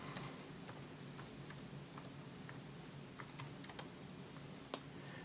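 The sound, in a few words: typing on a computer keyboard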